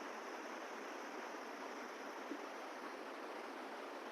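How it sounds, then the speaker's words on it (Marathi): A babbling mountain river near Manali rushes as a steady, broadband wash of water, even and continuous, heard from a little distance without talking. "आणि खळखळणारी नदी"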